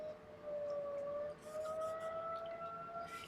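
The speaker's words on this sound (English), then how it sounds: "If you hear an alarm, a siren, it is because it's noon on a Monday" A small-town noon siren wails at a steady, sustained pitch that rises slightly partway through, heard faintly from a distance, with no talking.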